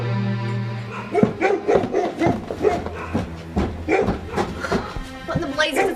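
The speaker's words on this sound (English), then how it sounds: "What in the blazes is going on with those darn dogs, Lucky?" Several dogs bark and yip in an audio drama in repeated bursts at a moderate distance, with voices speaking over them.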